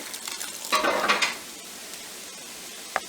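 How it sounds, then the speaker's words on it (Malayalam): Ground coconut paste poured into an ash gourd curry and stirred, with a brief wet splashing burst followed by quiet and then a single sharp clink, close by. "ഇനി ഇതിലേക്ക് നമുക്ക് അരപ്പൊഴിച്ച് കൊടുക്കുക."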